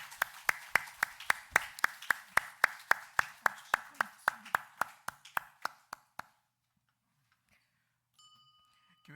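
A church congregation at a Korean Sunday morning service claps together in a steady, even beat, about twenty sharp claps over six seconds, and then the room goes quiet.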